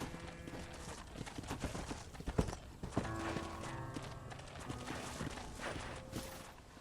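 Horse hooves clip-clop at a steady walking pace, close by, over a continuous musical score with a few louder knocks midway, in the video game Red Dead Redemption.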